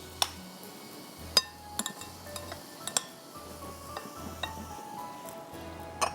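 A utensil clinks and taps against a bowl while spices such as crushed red pepper are mixed in: irregular sharp metallic chinks spread across the stretch, close and distinct over a faint low hum.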